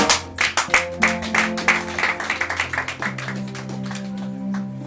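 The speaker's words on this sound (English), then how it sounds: "Can you just clap hands for our Master above in heaven?" A church congregation claps hands in a brisk, rhythmic beat over sustained organ or keyboard chords, the claps fading out toward the end while the music carries on.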